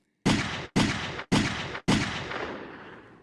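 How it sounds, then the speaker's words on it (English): Four loud gunshot blasts ring out as a sound effect, evenly spaced booms with sharp onsets, each cut off quickly except the last, which trails away in a fading tail. "I can't tell if this is a good gunshot or a bad gunshot."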